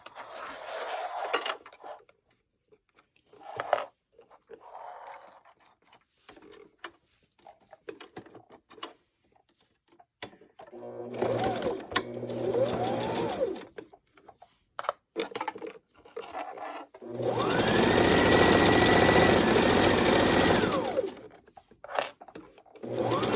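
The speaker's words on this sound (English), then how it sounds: "along the long sides, we're gonna do a straight stitch, just all the way along the side" A sewing machine runs a straight stitch along the long side of a single-layer cotton face mask, with short bursts, then a longer steady run near the end among small clicks and fabric handling.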